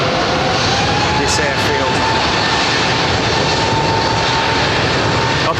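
A British Airways Boeing 777 at London Heathrow Airport, with a loud, continuous jet engine roar filling the whole stretch, and someone speaking briefly over it.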